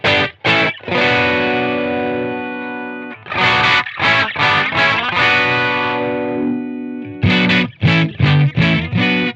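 Distorted electric guitar played through an EQ pedal with a boosted bass frequency, loud chords and sustained notes in choppy bursts with short gaps, no talking.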